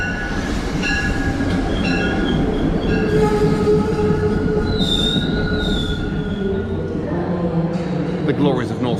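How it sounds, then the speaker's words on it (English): A commuter train on the Haverhill Line rumbles into a station with loud, sustained wheel squeal and rail noise, a high screech rising midway, with voices faintly in the background. "now I really will wait for the train to come in"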